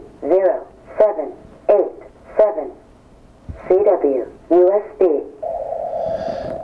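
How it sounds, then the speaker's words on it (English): A Yaesu FT-450D transceiver's built-in synthesized voice reads out the frequency in short clipped syllables with gaps between them, ending in a steady tone. "this has a voice announcement on it that lets you know what the frequency is"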